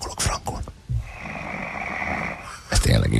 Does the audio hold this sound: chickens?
no